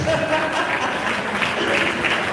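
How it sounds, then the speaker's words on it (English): Crowd applause at a university public lecture, a steady wash of clapping from many hands across the room. "give the over 50 people a fantastic round of applause"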